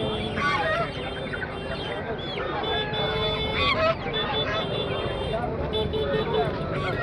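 Many fowl cackle and honk in a dense, busy crowd, with people talking and general market bustle mixed in throughout.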